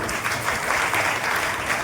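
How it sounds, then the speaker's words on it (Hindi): Audience applause at a religious gathering at a home, dense steady clapping from many people throughout. "जोरदार ताली बजाइए सबको"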